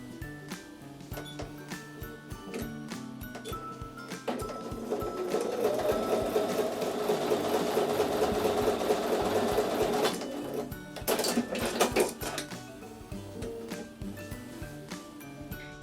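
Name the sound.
sewing machine joining quilt block columns and rows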